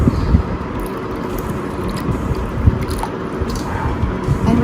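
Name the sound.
whisking curd with sugar, salt and milk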